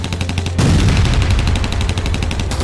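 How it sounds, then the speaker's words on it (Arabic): Gunfire in a war film: a dense, loud barrage of rapid shots, blasts and crackling erupts suddenly and continues steadily as a sustained roar of automatic fire, with no talk. "كله فتح النار مع بعض، الرصاصات شبعت المكان رصاص"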